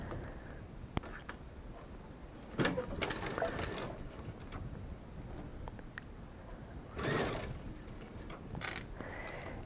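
A sewing machine runs a straight stitch on mesh fabric in a few short, quiet mechanical bursts with light ticking, while a person talks softly over a low background.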